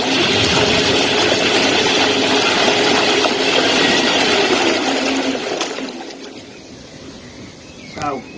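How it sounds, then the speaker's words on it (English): A narrowboat's electric drive motor spins the propeller and churns water at the stern, a loud steady rushing and whirring that fades after a few seconds, with a short spoken phrase in the clip. "So there we have the spinning motor."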